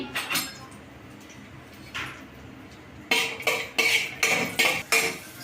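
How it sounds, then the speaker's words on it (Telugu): Chopped cashews and raisins fry in ghee while a metal spoon scrapes and clinks against the pan in sharp, repeated strokes, sparse at first then quicker and louder. "ఇందులో కొన్ని కట్ చేసుకున్న జీడిపప్పు కిస్మిస్ యాడ్ చేసుకున్నా కలర్ చేంజ్ అయ్యేంత వరకు వీటిని బాగా ఫ్రై చేసేసుకోవాలి"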